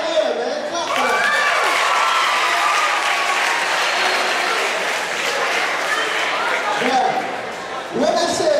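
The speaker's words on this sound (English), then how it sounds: "Give yourself a hand, man. Clap for that." Audience clapping at a motivational presentation: loud, dense applause sustained for several seconds, with voices and shouts mixed into the crowd, dipping briefly near the end before rising again.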